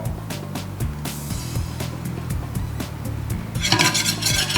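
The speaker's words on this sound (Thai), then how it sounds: "เราจะใส่น้ำตาลทรายแดงไปคั่วด้วยอ่า ใส่ไปช้อนโต๊ะ" Grated coconut dry-roasting with brown sugar in a pan: repeated scraping and stirring strokes with a spoon against the pan over a low rumble, getting busier and louder toward the end.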